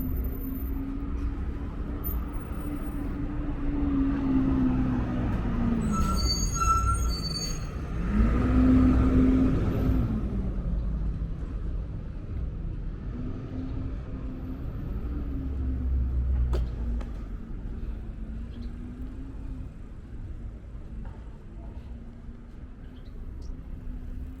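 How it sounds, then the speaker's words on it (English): Traffic rolls along Kings Highway in Brooklyn, with cars passing steadily in a continuous rumble that swells as vehicles accelerate nearby and then recedes. A faint higher whine from one passing engine is heard, and no one speaks. "The traffic is really going to pick up."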